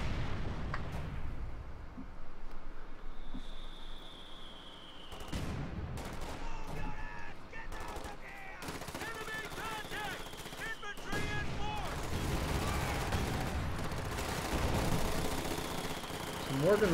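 Artillery and gunfire in Company of Heroes 2 on the Coldcast map, a pack howitzer round slamming into infantry amid scattered rifle and machine-gun bursts, explosions rising loudly over a busy battlefield.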